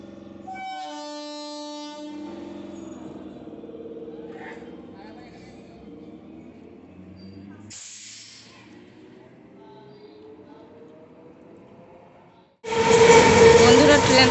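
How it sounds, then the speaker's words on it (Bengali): A train passes by: a horn blares at the start over a low rumble, and near the end a loud roar of carriages suddenly rushes past close by. "বন্ধুরা ট্রেন তো চলে গেল,"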